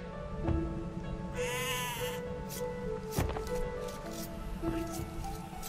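Sheep bleat in Age of Empires II: Definitive Edition while villagers gather food, a few short wavering game bleats over a steady background of game ambience and clicks, with one longer rising cry in the middle.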